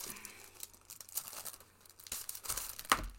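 Packaging for a Cricut card mat is torn open by hand, close crinkling and tearing in irregular bursts, ending in a sharper rip, with no talk.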